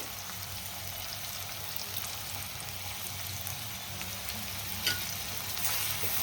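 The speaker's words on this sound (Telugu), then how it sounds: "నేను ఇంకా ఉల్లిపాయలు పచ్చిమిర్చి కరివేపాకు వేస్తున్నా ఇవైతే చక్కగా వేపుతున్నాము" Onions, green chillies and curry leaves fry in hot oil, giving a steady, close sizzle and crackle that runs unbroken throughout, with a faint clink near the end.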